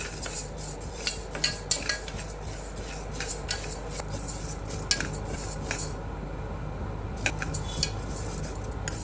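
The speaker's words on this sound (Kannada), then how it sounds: "ಈಗ ಸ್ಟವ್ ಹಚ್ಕೊಂಡು ಈಗ 1 ಗ್ಲಾಸು ಹೆಸರು ಬೇಳೆನ ಹುರ್ಕೊತಾ ಇದ್ದೀನಿ." Moong dal, one glass of it, dry roasted and stirred in a pan on a stove while cooking sweet pongal gives steady scraping and rattling of grains against metal, with repeated sharp utensil scrapes over a continuous low hiss, close and moderately loud, with no talking.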